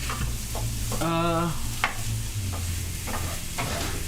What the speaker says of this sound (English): Tiny whisk them together?